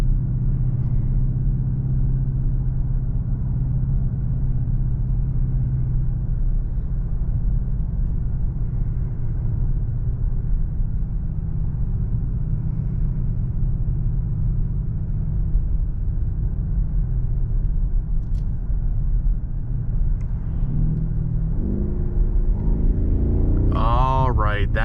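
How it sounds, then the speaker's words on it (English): BMW 760i V8 engine running while driving, a steady low rumble inside the cabin under a speaking voice, with a brief rise in engine tone near the end. "Really good sounding engine."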